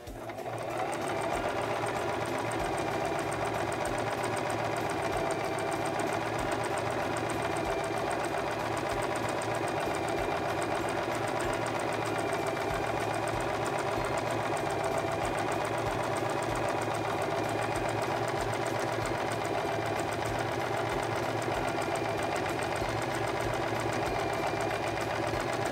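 A Singer Promise II 1512 sewing machine runs steadily through a multi-stitch zigzag on fabric, a continuous loud mechanical whir that holds an even rhythm from start to finish with no talking.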